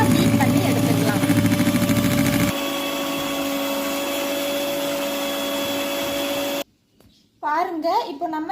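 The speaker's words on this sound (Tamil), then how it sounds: "லாஸ்ட் ஸ்பீடில் மாற்றிட்டு ஒரு 2 மினிட்ஸ் நல்லா பீட் பண்ணி எடுத்துக்கலாம்" An electric mixer whirs loudly at high speed, beating eggs and sugar for a sponge cream cake, a steady motor drone that drops in pitch partway through, cuts out, and gives way to a voice speaking.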